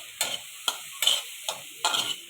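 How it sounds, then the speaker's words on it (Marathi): Garlic and tomato sautéing in a pan, with a soft steady sizzle broken by about five sharp scraping strokes of a spoon stirring through them, close and clear with no talk. "इकडे बघा मी छान परतून घेतलं लसूण आणि टोमॅटो"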